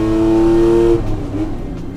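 A 1973 Ferrari 365 GTB/4 Daytona's engine, close and loud, holding a steady tonal drone for about a second before the note drops off and settles into a rougher lower idle, with no talking.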